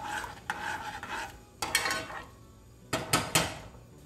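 Quinoa stirred in a pot with a spoon, a few bursts of scraping and clinking of utensil against metal separated by short pauses, close and fairly clear.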